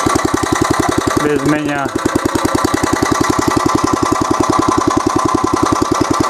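A walk-behind tractor engine chugs steadily and close by with a fast, even thumping rhythm as it drives along toward a fishing spot, continuing throughout while someone speaks briefly over it.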